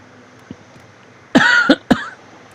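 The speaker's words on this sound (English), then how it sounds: "Sorry for the coughing." A few harsh coughs close to the microphone, a longer burst followed by two quick shorter ones, after a quiet pause.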